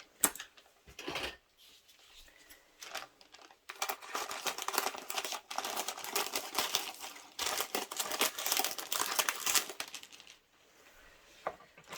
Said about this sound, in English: I'm just going to trim this cellophane off